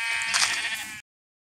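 A sheep bleats in the Minecraft-style survival game Craftsman during multiplayer play, one steady, close call lasting about a second before the sound cuts to silence.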